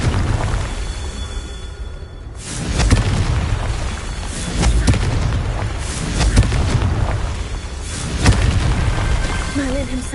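Confringo fire spell blasting in a Harry Potter video game, a loud booming explosion followed by rolling crackle and repeated heavy bursts under game music and voice.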